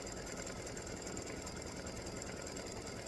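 An embroidery machine stitches a freestanding-lace oak leaf earring loop with a fast, steady mechanical whir and rapid needle chatter, continuous and close.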